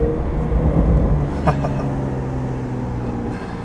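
Porsche Carrera T with PDK gearbox driving gently, its engine a steady low drone with a couple of small exhaust pops breaking through near the middle, close and continuous throughout.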